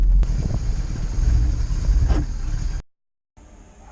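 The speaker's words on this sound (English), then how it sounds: "our lovely new wheels unfortunately are fouling our arches" Jaguar MK2 with new wheels fouling the wheel arches over a speed bump, a low rumbling car noise with scraping thumps near the start and middle before the sound cuts out.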